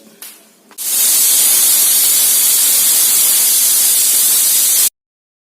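A square pressure cooker with water and a rack, steaming ada, lets out a loud, sustained hissing whistle of steam that starts abruptly after a faint moment and runs about four seconds before cutting off.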